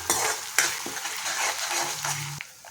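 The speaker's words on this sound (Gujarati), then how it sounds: "તો હવે આપણે એમાં આદુ લસણ મરચાંની પેસ્ટ નાખીશું બધું જ આપણે સારી રીતે સાતડી લઈશું" Ginger, garlic and green chilli paste sautés with crackled cumin in a pan, with a spoon clinking and scraping through repeated stirs over a loud, steady sizzle heard up close with no voices.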